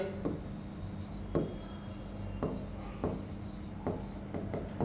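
Marker or chalk strokes on a board during a math lesson, a series of short scratchy strokes roughly every second, fairly close, with no talking.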